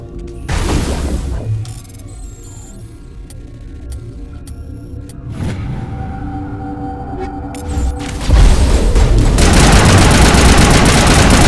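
Gunfire crackles through a Mass Effect firefight, sharp bursts and rapid automatic fire starting loud, easing off, then swelling into dense, continuous shooting near the end.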